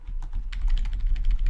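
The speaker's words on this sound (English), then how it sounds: "you must type this" Quick burst of keystrokes on a computer keyboard while entering a Vim command, close and clicky, with a low hum underneath and no talking.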